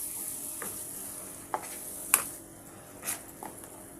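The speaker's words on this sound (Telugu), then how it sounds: "ఇప్పుడు దీన్నంతా బాగా కలబెట్టుకోండి." Dhaba-style potato curry mixed with curd being stirred in a pan, a steady oil sizzle under occasional soft scrapes and wet squishes of the spoon.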